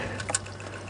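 Fuel drains from a disconnected fuel line on a 1992 Ford Ranger, a short, close liquid trickle and splash heard alone.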